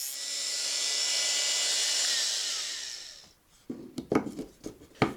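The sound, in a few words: grinder cutting the head off a number 6 screw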